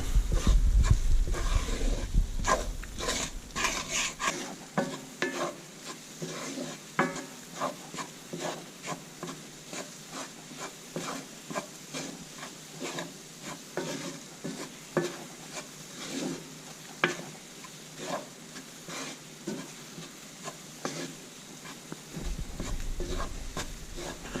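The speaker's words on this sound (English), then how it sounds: "You just basically blend in warm butter and flour." A white roux of warm butter and flour is blended in a pan, producing continuous close spoon scraping and stirring in quick irregular strokes over a faint sizzle.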